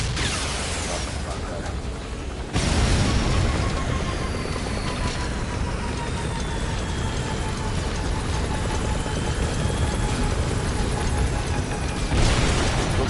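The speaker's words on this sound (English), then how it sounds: "You guys don't look at explosions." Loud, sustained roaring blasts and rumbling debris from explosions in Metal Gear Solid 5, surging suddenly after a quieter opening and continuing with a dense wash of noise.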